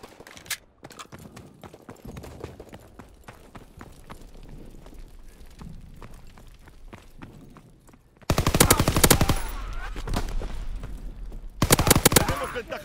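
Loud, rapid machine gun bursts from a World War II shooter game, Call of Duty WW2, fire in two long volleys near the end after a stretch of quieter clattering battle noise.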